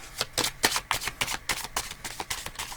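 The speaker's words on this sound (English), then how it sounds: "2 more shuffles, and that's it." Oracle cards being shuffled, with a quick run of crisp riffling bursts in a steady rhythm, close and clear, with no voices.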